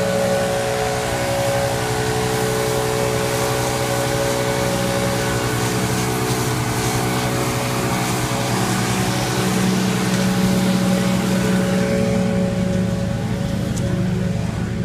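Stihl BR800 backpack leaf blower roaring steadily along an outdoor fence line during a spring cleanup, blowing loose garbage, a loud continuous engine drone that holds without a break and with no talking.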